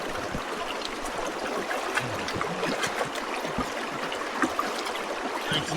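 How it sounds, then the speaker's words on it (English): Creek water flowing and splashing as a bucket is dipped in, a continuous close babble with small sloshes and trickles throughout. "We've got to grab some water in our bucket."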